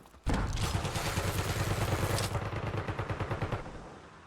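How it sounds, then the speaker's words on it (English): A stun grenade goes off in a video game, followed by a loud, dense crackle of rapid bursts lasting several seconds that then fades out. "Stun grenade out!"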